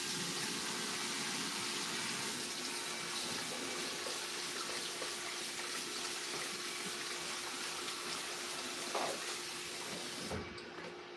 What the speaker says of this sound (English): changing out the water right now.